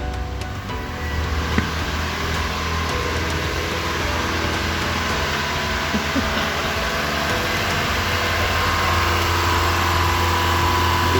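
The engine of a repainted Mitsubishi Lancer project car runs at a steady idle, a continuous broad rumble with a faint whine and no talk.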